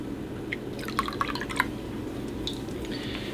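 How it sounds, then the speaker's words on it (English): Apple cider vinegar poured into soy milk, heard as a quiet cluster of soft drips and small liquid splashes over a faint background hiss, with no talk. "Now with the plant milk, I'm adding in some apple cider vinegar,"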